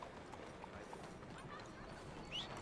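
Clip-clop of a horse's hooves in the video game Red Dead Redemption 2 on PS4, a faint steady patter over a low background wash, with a brief brighter sound near the end.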